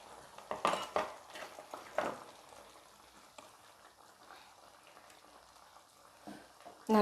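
Mashed potato masala for poori, with turmeric and gram flour, is stirred in a pan, giving a few clattering spoon-on-pan knocks early on, then a quiet bubbling simmer and a final scrape.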